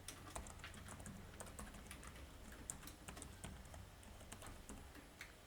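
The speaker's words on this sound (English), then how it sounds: "Click local instance and type in your password." A password being typed on a computer keyboard while setting up MySQL Workbench on Windows 11, a steady run of quick, close key clicks over a low background hum, with no voices.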